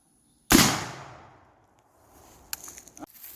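A .45-70 rifle loaded with original black powder fires one loud, close shot, followed by a long decaying rumble and a couple of faint knocks afterward.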